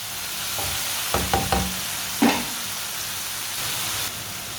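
Egg masala sizzles steadily in a pan while being stirred, with a few scraping clinks of the spoon against the metal near the start and middle.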